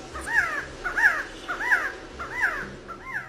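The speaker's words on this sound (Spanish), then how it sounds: "al frente de la pirámide de Kukulcán, cuando uno aplaude, se escucha claramente el sonido de un quetzal," Handclaps in front of the Kukulcán pyramid come back as chirped, bird-like echoes that resemble a quetzal call, five evenly spaced calls over a faint background.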